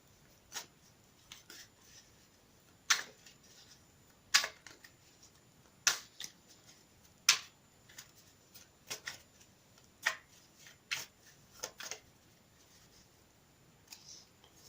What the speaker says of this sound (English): I'll give them another quick shuffle on camera.